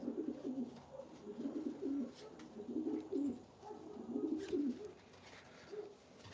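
Pigeons in a breeding loft coo softly and repeatedly in low, rolling phrases, a steady run of calls at moderate distance with faint background noise and no talk.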